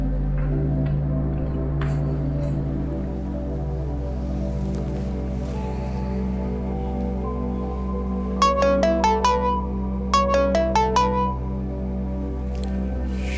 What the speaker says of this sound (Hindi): शाफिन मियां फोन ही अटेंड नहीं कर रहे।